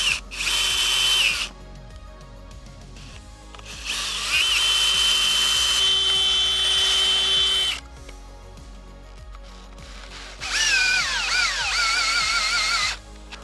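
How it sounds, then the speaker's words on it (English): A power drill whirs in three loud bursts while drilling holes for a farm gate installation, its pitch rising and bending under load, separated by quieter pauses of low room hum. "Now we're going to drill out our top one."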